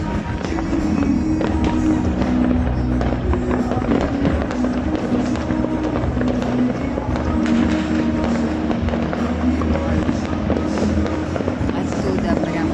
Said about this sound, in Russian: Ой, как стреляют.